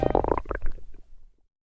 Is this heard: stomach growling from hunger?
yes